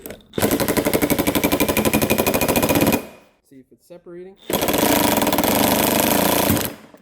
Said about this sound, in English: And I get our 16 mil and hammer away.